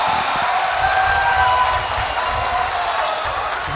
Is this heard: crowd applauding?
yes